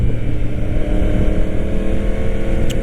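A 1000cc motorcycle cruises on a freeway, giving a loud, steady engine drone mixed with rushing wind roar that stays constant throughout, with no voices.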